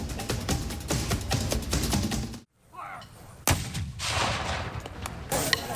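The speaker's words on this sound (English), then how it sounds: "Those are 2 fully restored cannons sounding off" Loud booming blasts from two restored boat howitzer cannons, with a sharp burst cutting through a dense, rumbling roar, followed by a brief silence and another heavy report.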